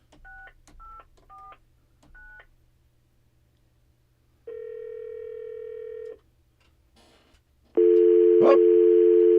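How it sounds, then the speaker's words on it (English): Touch-tone keypad beeps for a few digits at a radio studio phone, then a steady dial tone, a short pause, and a louder held tone, each clean and close with no talking. "I want to make a phone call."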